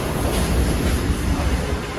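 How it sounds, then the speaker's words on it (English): Train passing on a Jamaican line between Linstead and Spanish Town, a loud close rumble with rattling wheel noise that carries steadily through the moment. "Wait for the train."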